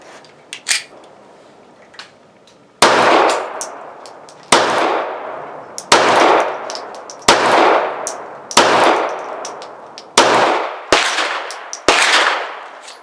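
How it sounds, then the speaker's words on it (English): A Glock 42 pistol fires .380 ACP rounds at a target about seven yards away at an outdoor range, eight sharp loud reports spaced roughly a second or more apart, each ringing out with a decaying tail, after a few light clicks. "The first gun we're going to shoot is the Glock 42"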